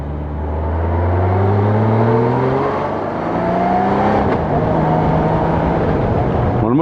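A Royal Enfield Himalayan motorcycle engine revs up close and loud, its pitch climbing in repeated swells before settling back to a rumbling idle.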